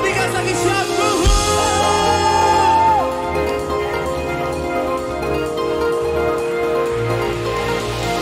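A church congregation at an online worship service shouting "wuhu" together, a loud massed crowd cheer layered over ongoing music, with whoops rising and sustaining across the whole stretch.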